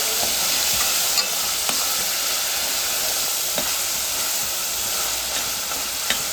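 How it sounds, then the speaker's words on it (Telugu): Freshly ground paste being stirred into a village fish curry in a hot pan, with a constant loud sizzle and frying hiss and occasional faint scrapes of the spoon, no voices. "కొంచెం పచ్చివాసన పోయేలాగా కలిపేసుకుందాము"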